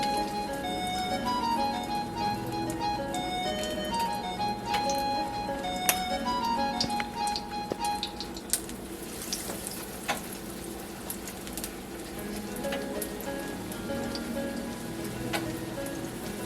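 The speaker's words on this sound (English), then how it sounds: "So we're gonna slide our patty into the pan." A shrimp burger patty fries in a pan of cooking oil, giving a steady crackling sizzle with scattered sharp pops and spits throughout, close and moderately loud with no talking.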